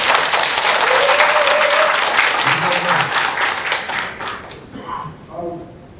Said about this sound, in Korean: 찬성하시면 박수 한번 주세요.